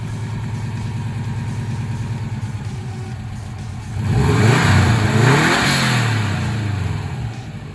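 A 2004 Subaru Impreza WRX engine idles with a steady burbling rumble, then revs up loudly, the pitch rising and falling before settling back, close and alone.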